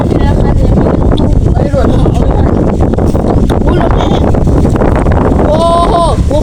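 Strong wind blowing on a mountain and buffeting the microphone with a loud, constant roar throughout, while a voice is heard faintly through it near the end.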